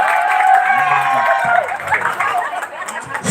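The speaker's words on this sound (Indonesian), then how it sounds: "Tepuk tangan pendukungnya Bang Bondan." Karaoke contest audience applauding and cheering for contestant Bang Bondan, a moderate crowd clapping with chatter over it and a host's voice talking through the noise.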